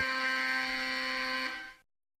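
An electronic alarm buzzer in a Portuguese-language public service announcement sounds as one steady, harsh, tonal blare, loud and alone, that cuts off abruptly into silence after under two seconds.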